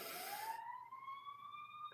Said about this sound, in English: there is a siren going off